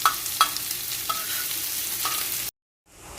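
Potatoes frying in oil sizzle steadily while being flipped, with a few sharp clinks of a utensil against the pan before the sound abruptly cuts out and faintly returns.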